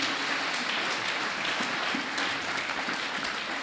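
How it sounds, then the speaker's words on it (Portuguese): Congregation applauding during a church ceremony, a steady wash of many hands clapping together, moderately distant and continuous throughout. "Será que podemos aplaudir para a glória do Senhor Jesus?"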